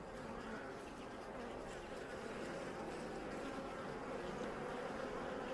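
Honeybees buzzing during a regular hive inspection at an apiary, a steady, fairly soft drone of many insects that continues unbroken throughout.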